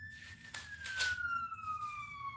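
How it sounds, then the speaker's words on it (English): An ambulance siren passes by, its steady wailing tone slowly falling in pitch. It sounds fairly loud and close, with no talk over it. "There goes an ambulance."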